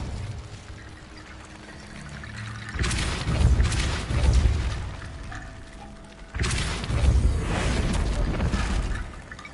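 Repulsor spell cast in Hogwarts Legacy, two heavy whooshing blasts a few seconds apart, each a broad rushing surge that swells and lingers like a gust of force, loud and close.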